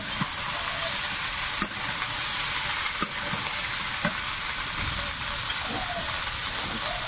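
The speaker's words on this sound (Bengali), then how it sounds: "পেঁয়াজ কুচি, কাঁচা লঙ্কা, এটা একটু নেড়ে চেড়ে নিয়ে সবজিটা দেবো।" Chopped onion and green chili stir-fry in a pan, giving a dense continuous sizzle with occasional clicks and scrapes of a stirring utensil against the pan.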